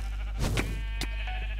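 Sheep bleat in the video game Minecraft during a Survival Games match, a couple of short nearby bleats over a steady droning background hum.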